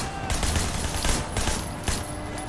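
Gunfire in the video game Sleeping Dogs, dense rapid bursts of automatic shots, loud and close over a short span, no talking.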